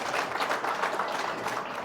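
Steady applause from a crowd at a community event honouring children in a mimicry programme, dense, even clapping filling the space.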